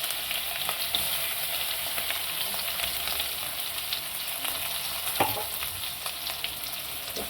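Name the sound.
spice paste frying in a pan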